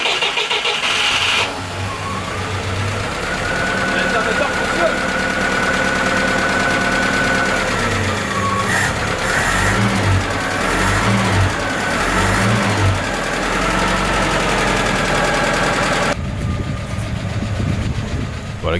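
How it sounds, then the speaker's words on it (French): A GAZ Volga M24 engine cranks and catches, then runs with a rough, rustic note and several revs midway before cutting off near the end, close and fairly loud. "Ça fait exactement le bruit que je m'attendais à entendre de la part de ce moteur"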